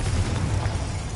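A Confringo fire spell detonates in Hogwarts Legacy with a short, deep, rumbling burst of game explosion sound, dense and fairly loud, with no voices.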